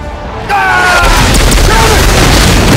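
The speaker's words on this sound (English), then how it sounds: "Artillery!" Artillery shells burst in the video game Starhawk, with a sudden loud blast kicking in after a half-second lull, then continuous rumbling and crackling debris under whistling tones.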